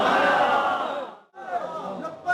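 At a religious speech, a large crowd chants slogans loudly in unison, with one long shout, a brief break, then another rising chant.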